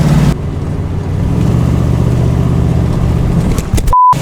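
A 1965 Cadillac V8 idling after a new carburetor was fitted, a close, steady low rumble with even engine pulses, followed by a brief tone at the end.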